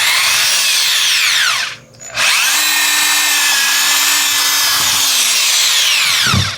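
A 3/8 inch right-angle electric drill boring with a sharp bit, with a loud high motor whine that drops out briefly, then spins back up and holds steady, close to the microphone.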